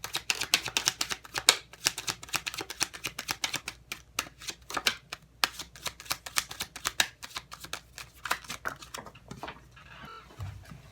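Tarot cards being shuffled and pulled from the deck: a long run of rapid, dense flicking and riffling, close and moderately loud, easing off near the end with a few soft handling sounds.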